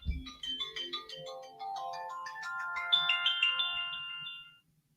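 A mobile phone's melodic ringtone rings alone, a tinkling electronic tune climbing in pitch for about four seconds before cutting off abruptly, close and clear.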